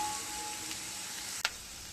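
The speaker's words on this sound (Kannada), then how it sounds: "ಈರುಳ್ಳಿ ಫ್ರೈ ಆಗಿದೆ, ಚೆನ್ನಾಗಿ ಬೆಂದಿದೆ" Onions frying in a pan give off a steady, fairly quiet sizzle, broken once by a sharp spatula clack near the end.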